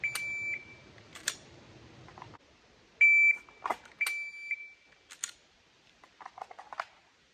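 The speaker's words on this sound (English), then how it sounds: "I'm going to set my timer for 1 second and see if I can get this draw from concealment done." A shot timer sounds sharp electronic beeps during a dry-fire concealed pistol draw drill, two tones about three seconds apart, each followed by quick rustles and clicks of clothing and gear in a quiet room.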